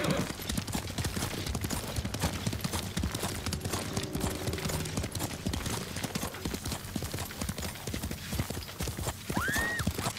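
Horse hooves gallop in Ghost of Tsushima, a steady, rapid clip-clop rhythm running throughout at moderate loudness, with a brief whinny near the end and faint voices under the hoofbeats.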